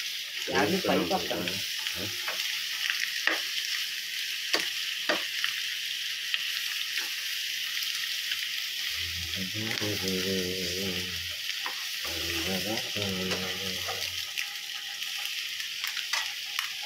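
Tomatoes fry with masala in an oiled pan for egg curry, giving a steady close sizzle with scraping stirs and occasional clinks, and a few short stretches of low rumbling bubbling.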